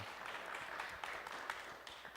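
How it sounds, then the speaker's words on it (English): Faint, scattered applause from a church congregation at a Sunday service, thin and distant, a few claps rising and falling over a soft room murmur with no voices standing out. "Say, Marlon, I mentioned your name and you barely got applause."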